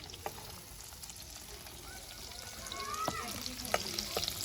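Onions sizzling and frying in a pan for homemade burgers, with a steady crackling hiss and occasional stirring clinks, while people talk nearby.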